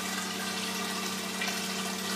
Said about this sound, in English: Water coming into the filter comes directly from the submersible pump over there